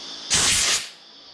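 A short, loud burst of compressed air blows dust off the bodywork of a Ford Falcon XB GS under restoration, a sharp hiss lasting about half a second before fading to quiet.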